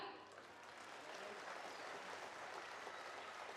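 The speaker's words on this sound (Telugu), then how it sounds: "you can also clap for your self, no problem" Audience applause for performers at a school's 10th annual day celebration, a faint, steady, distant wash of clapping with no break.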